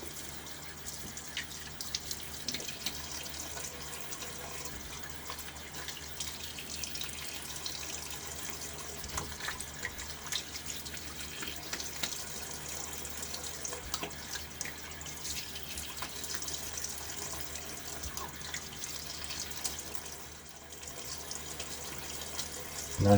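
A bathroom tap runs while a shaving razor is rinsed, a steady close hiss of flowing water that goes on without a break, with faint clinks and no speech.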